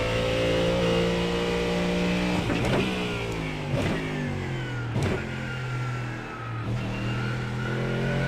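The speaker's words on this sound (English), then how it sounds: "There's not much you can hear over the sound of the Mustang's engine anyway." Ford Mustang GT3 race car engine in iRacing at Magny-Cours, droning loudly and steadily throughout, with its pitch dropping and climbing through several quick gear changes; no talking.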